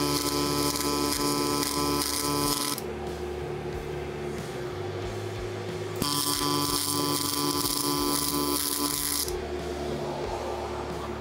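A DIY tube and pipe bender kit being welded, with two long stretches of steady buzzing weld arc separated by a quieter gap full of low mechanical hum, loud and close, with no speech.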